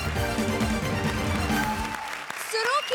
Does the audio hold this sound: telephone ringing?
no